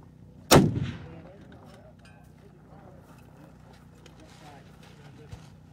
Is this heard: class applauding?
no